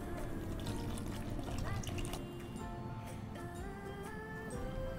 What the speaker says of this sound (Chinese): 然后就倒水进去。